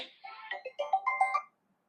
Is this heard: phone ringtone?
yes